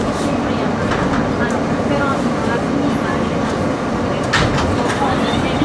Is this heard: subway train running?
yes